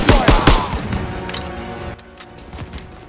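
Heavy gunfire in a Call of Duty WWII campaign battle, several loud close shots at the start followed by continuing rattling fire and distant crashes that fade toward the end.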